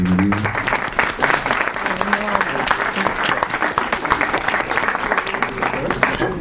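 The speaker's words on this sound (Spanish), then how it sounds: "para quien les pido un aplauso de bienvenida" An audience breaks into dense, sustained applause welcoming a university rector at a lecture on Mexican beliefs, traditions and piñatas, steady and loud throughout, with a voice speaking briefly at the start.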